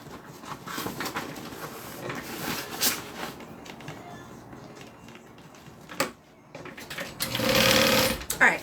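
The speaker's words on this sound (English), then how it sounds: "I'm going to sew open my side seams so that they're nice and flat" A sewing machine stitches open the side seams of a garment in a home sewing setting, running in steady bursts of rapid needle chatter with brief pauses, close up, partly under a speaking voice.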